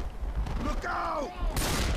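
Gunfire in the zombie shooter game Left 4 Dead 2 crackles in a short burst of rapid shots, with a brief voice calling out over it.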